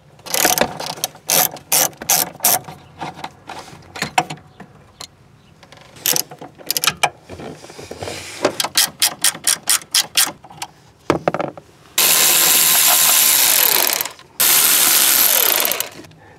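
Ratchet wrench removing a bracket from a car, rapid clicking bursts in repeated loud strokes, then two long continuous whirring runs near the end, close up with no talk.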